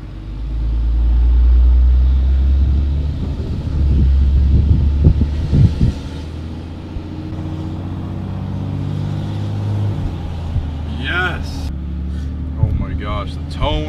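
Driving with the windows down, a 24-valve Cummins diesel with a 5 inch straight pipe exhaust and turbo drones low and steady, swelling loudly at times, with wind noise and someone talking near the end.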